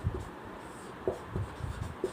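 Chalk or marker strokes scraping across a board in a classroom lesson, a few short scratchy marks spaced irregularly over two seconds, close and moderately quiet with no talking.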